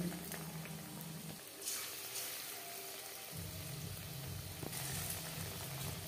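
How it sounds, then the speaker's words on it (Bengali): Marinated chicken goes into hot refined oil and fries, giving a faint steady sizzle and bubbling hiss that swells when the pieces drop in and continues quietly throughout. "বেশ খানিকটা রিফাইন্ড অয়েল গরম করে নিয়েছি। এবার দিয়ে দেব ম্যারিনেট করে রাখা চিকেন।"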